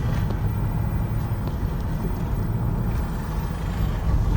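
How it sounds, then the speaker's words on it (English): A 16hp Duramax go-kart engine drones steadily at close range while the kart is driven, a loud low rumble with constant wind buffeting and no voices. "in the next clip, you're gonna see me going ahead and driving the go-kart back to his house"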